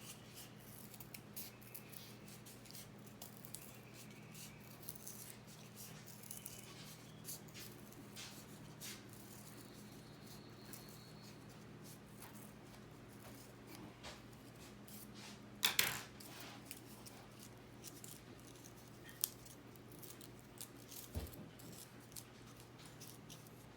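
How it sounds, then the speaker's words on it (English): Quiet scissors snip through paper to cut out a circle, soft irregular clicks and rustles spread over the stretch, with one sharper clack near the middle, all heard close and faint. "And so let's cut one more circle."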